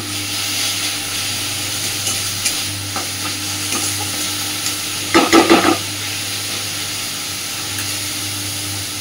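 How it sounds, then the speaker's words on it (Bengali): Grated radish for a vegetarian chhechki stir-fried in a pan over a medium-low gas flame: a soft, continuous sizzle over a low steady hum, with sparse spatula taps and a brief burst of louder scraping midway. "গ্যাসের ফ্লেমটাকে একদম মিডিয়াম টু লোতে রেখে একটু সময় নিয়ে সুন্দর করে ভেজে নেব।"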